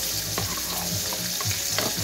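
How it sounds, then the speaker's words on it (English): A spoon stirs chili powder into a sausage mixture frying in a pan. Loud continuous sizzling is overlaid with a few soft scraping strokes, heard up close. "I'm going to mix that in."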